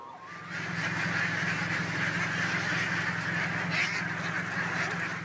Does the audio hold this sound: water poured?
no